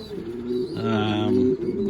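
Blue bar Pomeranian pouter pigeons coo close by in a loft, a steady low rolling coo that swells louder in the middle and runs on without pause, with no talking.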